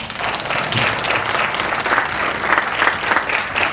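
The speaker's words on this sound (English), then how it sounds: "please give a big round of applause to Dr. Nathan Ho" A conference audience applauds a dental speaker, Dr. Nathan Ho, with steady, loud clapping from many hands that fills the room evenly without pause.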